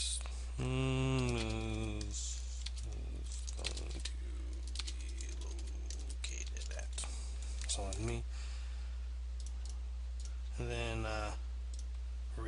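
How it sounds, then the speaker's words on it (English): Keys tapped on a computer keyboard in a series of quick, light clicks, spread under and between a man's speech. "So let's type something here."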